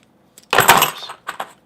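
A pair of metal keys from an eBay lock purchase jangle briefly up close, one bright rattling clink followed by two lighter taps.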